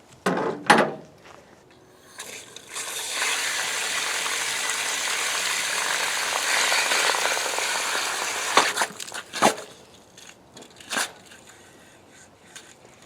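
Water sprays hard from a pipe line in a goats' water system after a freeze, a loud steady hiss lasting about six seconds, with mechanical clunks before and after.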